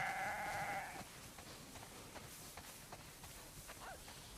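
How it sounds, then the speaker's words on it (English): Sheep bleating in a barnyard scene, a wavering bleat up front and fainter calls later over a steady noisy background. "Wow, that's a lot of sheep."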